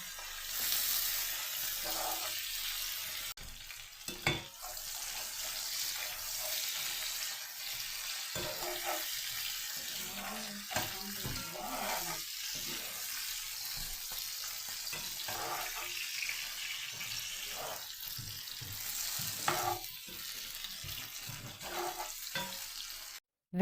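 Sliced potatoes with fresh pepper and onion frying in a pan, a soft continuous sizzle broken by scraping and clattering strokes of a utensil stirring, steady at moderate volume.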